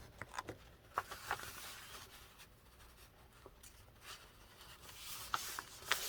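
Paper folded by hand for a handmade romance journal: soft rubbing and sliding with scattered light taps and crinkles, close and fairly quiet, with no voices.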